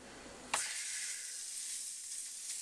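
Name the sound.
wild-caught salmon searing in a hot skillet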